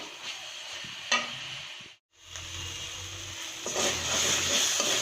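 Quail meat is stirred in a pan with cumin and garam masala pastes, producing close scraping and shuffling strokes over a low sizzle, with a brief pause midway before the stirring grows busier.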